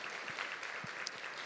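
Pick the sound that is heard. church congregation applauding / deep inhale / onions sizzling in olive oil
church congregation applauding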